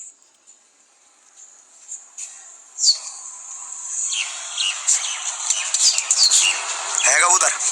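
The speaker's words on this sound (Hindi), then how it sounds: "कई सारे कबूतर लगे हुए हैं भाई इसमें।" Pigeons gathered in a spot: faint at first, then a rising flurry of high chirps, squeaks and flutters, growing busier and louder toward the end, with a brief voice near the close.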